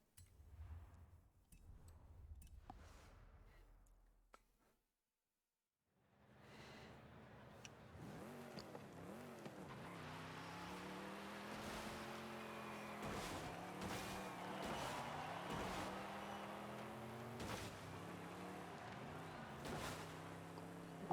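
A Chevy Impala 409 in Forza Horizon 5 revs and accelerates through gear changes on a volcano rally route, its engine note rising and falling steadily and loudly after a brief gap of silence.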